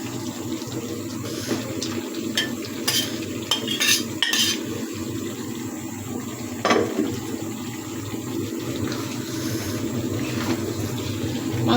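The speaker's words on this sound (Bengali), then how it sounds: "মাংসটাকে ভালো করে মশলার সাথে মিশিয়ে দেব।" Chicken pieces stirred with spices and cooked potatoes in a pot, a close, steady wet scraping and clinking of a utensil against metal, with a few sharper knocks and no speech.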